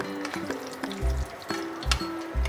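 Eggs frying in oil give a steady sizzle with soft clinks and stirring knocks throughout, close and moderately loud.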